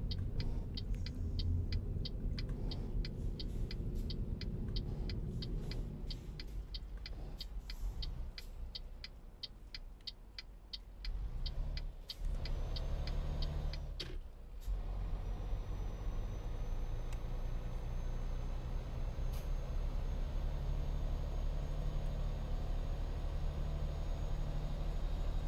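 Heavy truck engine in Euro Truck Simulator 2 laboring up a highway on-ramp, a steady low rumble with a brief dip and hiss midway, no talking.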